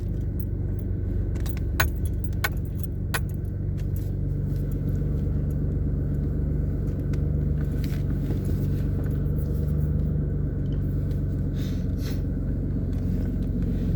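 A 2008 Pontiac G6 driving, heard from inside as a steady low road rumble and engine hum, with keys jangling and clinking repeatedly throughout.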